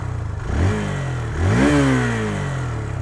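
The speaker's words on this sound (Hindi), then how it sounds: "इसका पहले मैं आपको एग्जॉस्ट नोट सुनाता हूँ।" A Hero Xtreme 160R 4V motorcycle, 160cc, 2024 edition, idles and is blipped twice, its exhaust note rising in two short revs and settling back to a steady, boomy idle close by.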